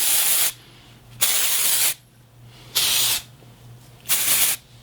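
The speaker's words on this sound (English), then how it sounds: "spray it with some dry shampoo" Bursts of IGK First Class Charcoal Detox Dry Shampoo are sprayed onto limp, air-dried hair, four sharp close hissing sprays of about half a second each, spaced by short quiet pauses.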